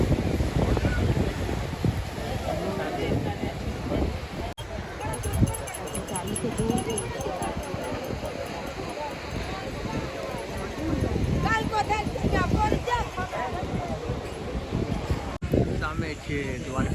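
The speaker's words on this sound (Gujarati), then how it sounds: "આ છે દ્વારકાનો દરિયા કિનારો" Wind and surf roar steadily along the Dwarka seashore, a continuous broadband wash of waves with gusty microphone buffeting and faint crowd noise throughout.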